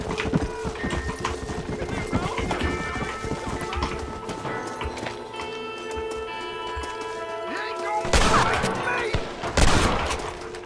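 Gunfire in Red Dead Redemption on hardcore difficulty, scattered shots crackling amid clattering hooves and game music, with louder bursts of shooting near the end and a voice talking throughout.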